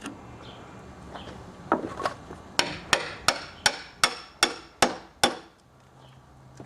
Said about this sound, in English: I'm going to go ahead and pound the bolt back through